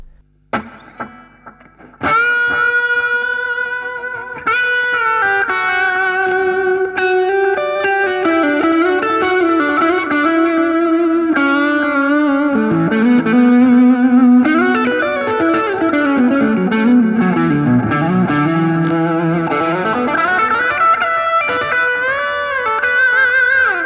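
A distorted electric guitar plays sustained notes and sliding bends, each line trailing echoing repeats, loud and alone without any voices.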